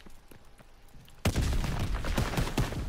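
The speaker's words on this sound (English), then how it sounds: "This is an Australian SMG" Sudden sustained burst of automatic fire from an Australian Owen submachine gun in a WWII multiplayer shooter game, loud and dense, following a quieter stretch of scattered distant shots.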